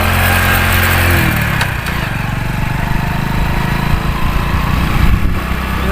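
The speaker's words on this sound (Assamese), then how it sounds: "এতিয়া বাইক ষ্টাৰ্ট হৈ আছে" A motorcycle engine runs loud and close throughout, with a steady low rumble that shifts slightly as the bike pulls away and rides on a road in Bangalore.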